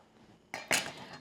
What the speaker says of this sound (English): And I'm just cutting these guys in half.